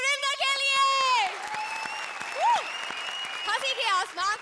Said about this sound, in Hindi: जोरदार तालियां हमारे अपने सुपरस्टार सुरिंदर के लिए